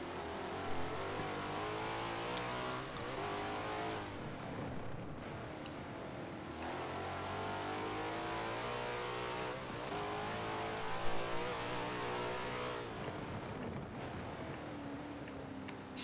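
Race car engine of a fast Mercedes in an endurance racing video game at Indianapolis, a steady sustained drone with rising pitch sweeps as it accelerates down the straights, continuous and fairly loud throughout.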